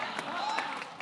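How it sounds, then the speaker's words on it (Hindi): A television comedy show's studio audience applauding for Hazel, a dense burst of clapping and crowd noise heard briefly with a voice over it. "एक बार हेजल के लिए जोरदार तालियां"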